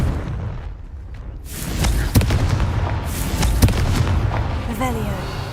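Blasting spell cast in the video game Hogwarts Legacy, heard as a loud booming burst with crackling debris, followed by further impacts and rumbling noise, with a brief voice and game sounds mixed in.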